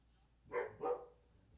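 Dogs barking in the background of a Red Sox versus Yankees baseball broadcast, two loud barks in quick succession, fairly close, with no talk over them.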